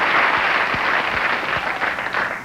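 Studio audience applause on a late-night talk show, a steady roar of clapping at constant strength, close and unbroken.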